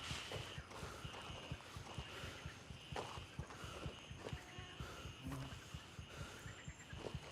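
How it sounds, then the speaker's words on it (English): Footsteps in the video game Gray Zone Warfare: a quiet, regular run of soft thudding steps under a faint ambient bed, with no talking. "I'm hearing somebody's footsteps."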